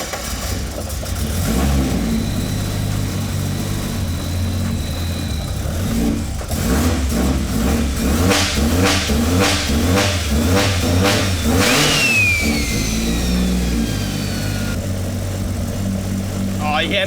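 A tuned high-power car engine on a dyno fires up and revs hard, its loud droning roar climbing through repeated throttle blips before settling to a rough, steady idle, with people talking over it.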